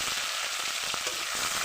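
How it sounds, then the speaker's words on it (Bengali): Bay leaves, ginger, cumin and green chili paste fry in hot oil, giving a dense, steady sizzle with a faint stir or two and no talking. "আর একটু তেল দিয়ে দেব, দুটো তেজপাতা দিয়ে দেব, আদা, জিরা, কাঁচা লঙ্কা বাটা দিয়ে দেব।"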